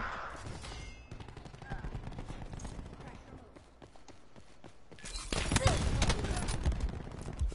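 Gunfire in Call of Duty Black Ops 4 multiplayer, a rapid stream of distant-sounding shots that swells into a louder burst near the end, with someone talking over it.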